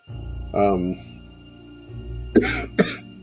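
A person coughs once, then after a pause gives two sharp, close coughs, with a low hum in the background.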